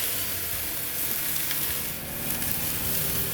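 A tomahawk steak flipped on a drum smoker over live fire, a loud, dense, continuous sizzle close up with no talking.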